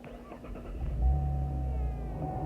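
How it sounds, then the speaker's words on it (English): A 2010-2015 Chevy Camaro with a push-button start conversion starts up and settles into a steady, low idle rumble, near and continuous, with no talking. "I put my foot on the brake, hit the button, crank right up."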